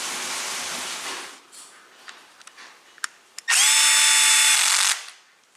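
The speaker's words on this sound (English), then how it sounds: "get them started, and then I'll zip them down with the screwdriver" A cordless power screwdriver zips a screw down in one steady, loud whir lasting about a second and a half, preceded by a few light clicks and taps of handling nearby, with no voices.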